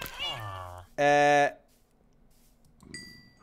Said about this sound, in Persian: نگاه کنید هر یه قدم یه گربه و یه سگ.